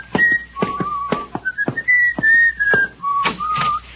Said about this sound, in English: goes whistling up the steps